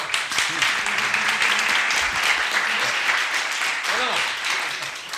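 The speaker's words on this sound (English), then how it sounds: "I'm clapping to synchronize with the audio. With the video." Applause-like clapping fills a lecture room during a parameterized algorithms class, steady and fairly loud throughout, with voices talking faintly underneath.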